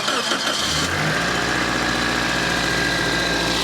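A Toyota Matrix engine cranks and catches near the start, then settles into a steady, close idle after an exhaust manifold repair, with no talking.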